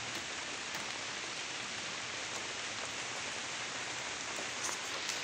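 Rain comes down steadily, making a dense, even hiss with faint scattered droplet taps on a surface. It is continuous and moderately loud, and no voices are heard.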